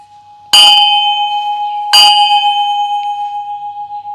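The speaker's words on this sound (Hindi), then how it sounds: "मैंने एक घंटी बजाई थी शुरू में" A bell is struck twice during mantra practice, each strike ringing loudly and leaving a long, steady humming resonance that slowly fades.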